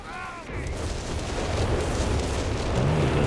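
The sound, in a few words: artillery fire in video game Company of Heroes 3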